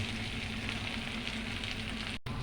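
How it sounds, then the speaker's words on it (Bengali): Dried fish (shutki) sizzles in hot oil in a pan, a steady, close crackling hiss that carries on evenly before a brief cut near the end. "ওই শুটকিটা আবার দিলাম এখানে এই তেলের মধ্যে"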